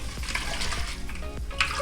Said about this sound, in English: Give it a good proper rinse.